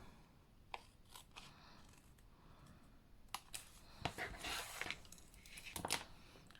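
Scissors trim the ends of paper on a papercraft project: a few sharp snips and crisp crunching cuts, clustered near the end, over a quiet room.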